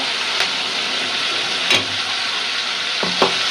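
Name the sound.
prawns frying in a pan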